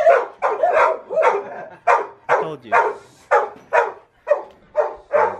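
Two dogs in a home yard in the Philippines bark insistently at close range, about a dozen sharp barks in a steady, evenly spaced rhythm, with a brief spoken remark among them.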